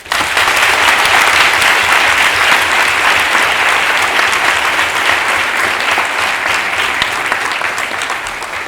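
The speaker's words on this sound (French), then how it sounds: "quelques applaudissements s'il vous plaît" Sustained audience applause fills a hall at an eloquence contest staged as a mock trial of Gandhi, dense steady clapping from a large crowd that holds loud and even throughout, easing only slightly at the very end.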